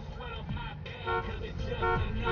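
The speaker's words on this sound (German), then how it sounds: "Was ist die Hupe übrigens?" Horn toots from a car in the video game GTA 5, sounding in several short, loud blasts over engine and game noise, with people talking at the same time.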